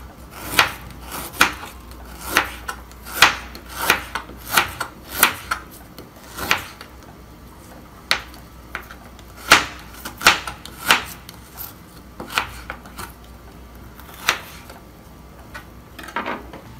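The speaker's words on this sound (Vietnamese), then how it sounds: "Gừng các bạn cũng thái mỏng nhé." Fresh ginger is sliced thinly with a knife, likely on a wooden board, in a run of about twenty crisp, close cuts that come at a quick, slightly uneven pace with short pauses between.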